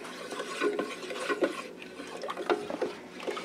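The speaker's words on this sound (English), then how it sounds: "I'm going to give that a little bit of a stir." A spoon stirs a mint chocolate ice cream mixture in a bowl, giving soft swishing and scraping strokes in an irregular rhythm, close and moderately quiet, with no speech.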